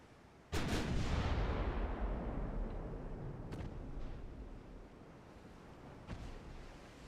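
Battleship guns fire shells in a naval war video game: a sudden booming blast followed by a long rumbling decay, with two further sharper shots later, loud and close, with no talking.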